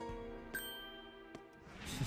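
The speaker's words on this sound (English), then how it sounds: "Rika comes out with a bell" A bell ringing in Labyrinth of Refrain: Coven of Dusk as a character attacks with a bell during a battle, with two short bright strikes over a sustained tonal game music bed.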